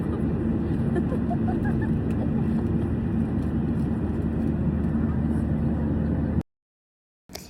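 Steady, loud broadband engine drone fills the cabin of an airplane in flight on a trip from Canada to the Philippines, continuous for about six seconds before cutting to silence.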